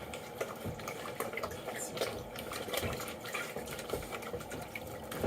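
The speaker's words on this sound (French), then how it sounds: "Fait que je vais juste rincer." Water running from a tap into a sink while rinsing, a steady close hiss and splash with small irregular drips throughout.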